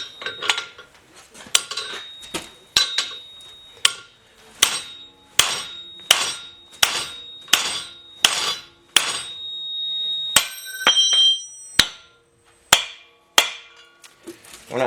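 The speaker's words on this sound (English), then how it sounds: "got a little bit bigger hammer, and we'll just keep working on it" Repeated sharp metal-on-metal hammer strikes on a Jeep/AMC Model 20 axle during disassembly, loud and close, landing in an irregular steady rhythm about once a second with ringing metallic tails and a few quick double hits.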